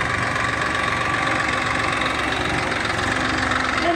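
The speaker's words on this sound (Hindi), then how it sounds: "मैं मेसी फर्गुसन को स्टार्ट कर खेत से गेहूँ ला रहा हूँ" A Massey Ferguson tractor engine runs at a steady idle on a farm during wheat hauling, a loud continuous low rumble with a knocking throb, close by and with no talk.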